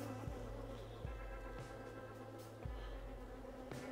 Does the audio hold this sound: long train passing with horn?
no